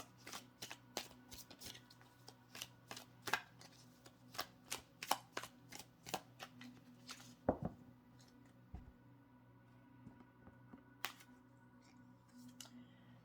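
Tarot cards being shuffled and pulled at close range, a series of soft papery flicks and snaps in an uneven rhythm, faint and quiet with no talk.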